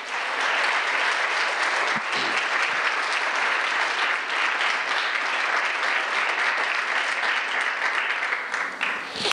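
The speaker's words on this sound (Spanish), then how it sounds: "¿Cuántos le damos un aplauso al Eterno?" A church congregation applauds during a Palm Sunday sermon, a broad, even wash of many hands clapping that carries on loudly for several seconds without a break and with no speech over it.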